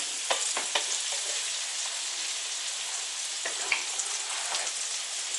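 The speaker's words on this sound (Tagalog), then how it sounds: "You should caramelize first the garlic and the onion." Garlic and onion caramelizing in a pan for pancit, a steady crackling sizzle with scattered sharper pops and stirring scrapes, close and continuous.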